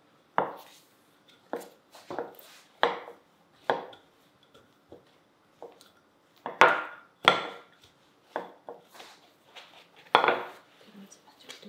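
Rice bagel dough being rolled out on a board produces about a dozen scattered wooden thumps and knocks, each with a short tail, over near silence.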